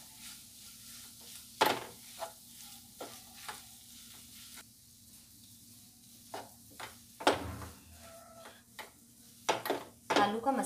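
A spoon stirs and mixes potato masala with salt and lemon juice in a pan, giving a string of soft scraping clinks and light taps against the metal, irregular and close, over a faint background sizzle.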